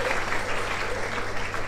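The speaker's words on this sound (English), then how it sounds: "round of applause for the judges as well" Audience applause for the judges at the IPM Awards ceremony, a steady even wash of clapping throughout, with a faint voice briefly underneath.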